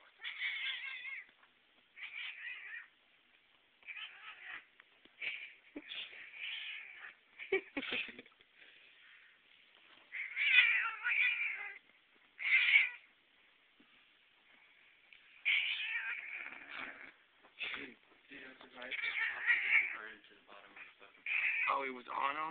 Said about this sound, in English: Did one of the cats cry